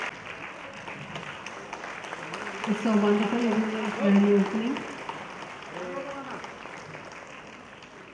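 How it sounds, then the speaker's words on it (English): An audience at a minister's English speech applauds in a moderate steady patter while someone speaks over it, her voice rising in the middle before the clapping carries on alone. "Please make a great round of applause."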